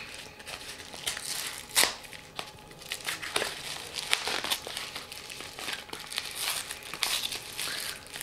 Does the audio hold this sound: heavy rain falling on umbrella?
no